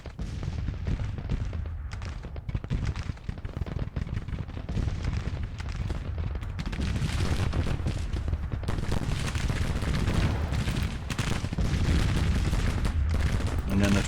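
Rolling infantry musket volleys crackle and boom in the Civil War strategy game Grand Tactician, dense overlapping gunfire building in intensity over several seconds, moderately loud and continuous.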